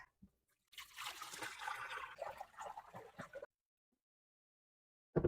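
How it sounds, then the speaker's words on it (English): Water empties from a Breg Polar Care Kodiak cold-therapy cooler into a sink, a close gush and trickle lasting a few seconds before stopping, followed by silence and a brief knock at the end. "Take your cooler and empty the water into the sink."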